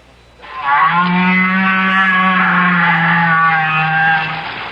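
One long, loud whale moan carries a steady low tone with rich overtones, like a drawn-out mooing, for about four seconds. It rises in sharply, fades at the end and plays alone.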